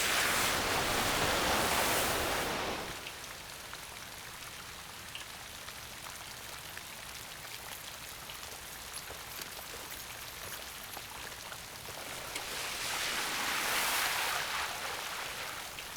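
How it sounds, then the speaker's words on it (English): Rain falling steadily in Vancouver, Canada, a soft continuous hiss of drops that swells louder at the start and again near the end. "In Vancouver, in Canada, it's also raining."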